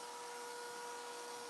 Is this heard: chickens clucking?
no